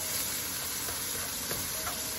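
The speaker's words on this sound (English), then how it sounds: "If you're still frying it up there" Turkey wing pieces frying in hot coconut oil for a curry dish, giving a steady, continuous sizzle and crackle throughout at moderate closeness, with no talking.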